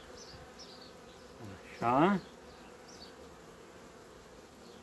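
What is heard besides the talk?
honeybee colony buzzing at open hive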